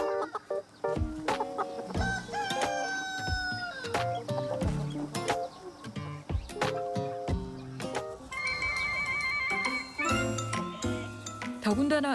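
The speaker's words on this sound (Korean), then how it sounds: "그렇게만 해주면 닭들은 알아서 잘 놀고 잘 먹고 사랑도 잘" Free-range chickens cluck and a rooster calls in a lively farmyard, with busy overlapping bird sounds, scattered tinkling and sharp clicks throughout, fairly close and continuous.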